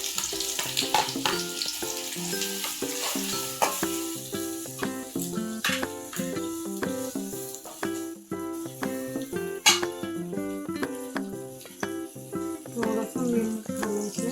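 Chopped onion fries in hot oil for a chicken masala, a soft, steady sizzle running beneath louder background music throughout.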